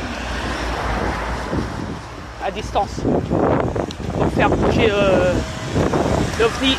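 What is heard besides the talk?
wind blowing into the microphone outdoors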